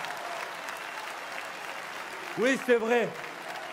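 Audience applause at the opening convention of the Union populaire, a steady crowd clapping throughout, with a voice briefly speaking over it near the end.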